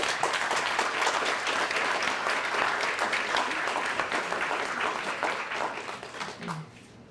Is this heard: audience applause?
yes